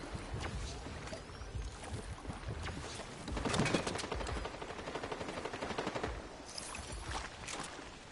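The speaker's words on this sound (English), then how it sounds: "I hear the gunshots." Rapid bursts of gunfire crackle continuously, with a louder volley in the middle, set against a dense, noisy game soundscape.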